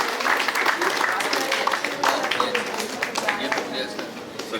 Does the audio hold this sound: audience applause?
yes